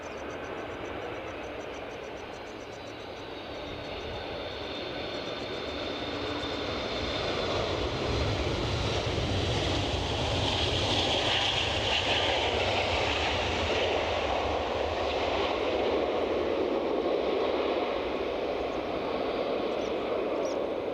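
A United Boeing 757 airliner in from Newark at Edinburgh Airport, its engines roaring and steadily growing louder as it approaches, holding a strong rumble through the end, with gusty wind around.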